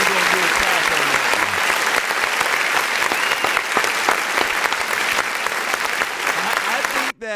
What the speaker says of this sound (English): we're gonna do a clap on that one